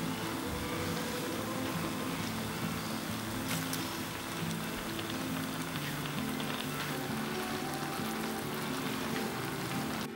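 Spicy gochujang sauce with glass noodles, sesame oil and vegetables bubbling and sizzling steadily in a pan, a dense, even crackle like rain that continues without pause.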